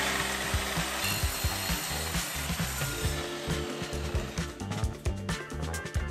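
A power tool makes bevel cuts in plastic during a small-room renovation, a continuous buzzing, rasping cut with rhythmic pulses, fairly close and steady throughout.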